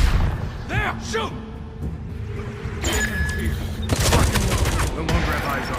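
Bursts of video-game gunfire in Batman Arkham Shadow, sharp volleys of shots cracking out after short shouted lines, the firing growing denser and louder toward the end amid clanks and impacts.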